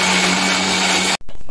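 A mixer grinder whirs loudly and steadily at close range while grinding ingredients, then cuts off abruptly, leaving a brief quiet with faint rattling afterward.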